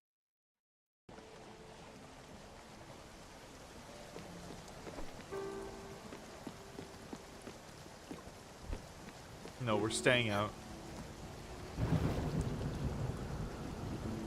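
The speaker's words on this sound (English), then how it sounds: "Oh, we're in a storm." A video-game thunderstorm with steady rain hissing and rumbling thunder swelling in several loud rolls, while a voice speaks briefly.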